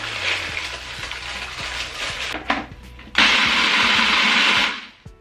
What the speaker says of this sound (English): we're gonna start putting them into the food processor